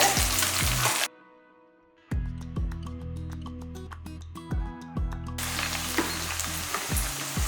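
Whole shallots frying in hot oil for tomato rice, a steady sizzle interrupted by a brief quiet gap, then resuming loud and close with repeated clinks of a spoon against the pan.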